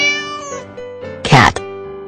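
A single short cat meow rises near the end, over a steady musical background tone.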